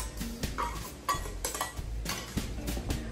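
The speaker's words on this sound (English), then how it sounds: "In a large mixing bowl, whisk together the melted butter," A whisk beats melted butter with brown and granulated sugar in a large mixing bowl, producing quick, rhythmic clinks and scrapes against the bowl at close range.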